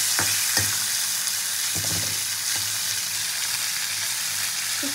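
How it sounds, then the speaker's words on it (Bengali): Prawns sizzling in hot oil in a wok, a dense steady frying hiss with a few soft clanks and stirring knocks, close and alone with no voices. "চিংড়িগুলো কিন্তু আমি খুব বেশি ভাজবো না।"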